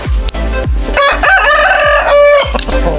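A rooster crows loudly and close, one long drawn-out call between short clucks and scratchy rustling noises.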